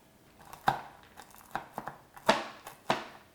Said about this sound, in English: a wooden spoon. And you mix it all together.